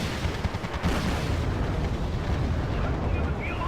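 Airstrike explosions from the Wargame Red Dragon battle game, a dense, continuous rumble of booming blasts and crackling detonations that rolls on without a break, loud and close.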